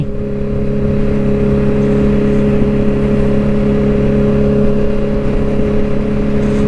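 Steady, loud engine drone of a Big Boss motorbike ridden at an even, relaxed pace, with a constant low hum and wind rush and no speech.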